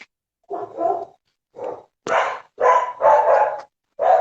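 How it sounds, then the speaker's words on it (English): A dog barks repeatedly, a series of sharp, loud barks in irregular bursts with short silences between them. "Is it your dog that's barking something in the background?"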